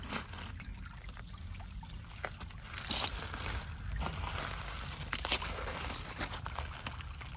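Weathered, decomposed pegmatite gravel with lots of quartz being dug with a small shovel in a creek, giving scattered gritty scrapes and crunches against a quiet bed of trickling water, fairly faint and close.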